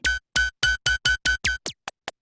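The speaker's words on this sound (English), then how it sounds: "So you've got this kind of laser, different pitches" Synthesized laser zaps built in Ableton, a rapid series of about ten short bright pitched blasts, the last few shorter and fainter with sweeping pitch.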